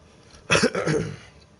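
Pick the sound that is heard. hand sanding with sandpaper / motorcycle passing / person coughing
person coughing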